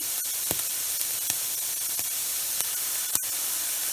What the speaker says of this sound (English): Listen, it's not as sizzling, and that's going to be important, the sound of the mushrooms.